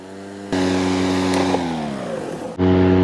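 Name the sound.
cordless electric lawn mower blade engaging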